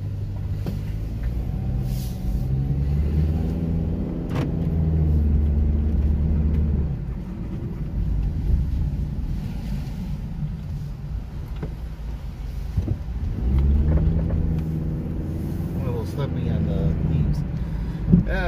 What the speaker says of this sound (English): I think it's time for a test drive.